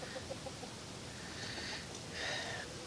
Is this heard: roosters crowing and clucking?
yes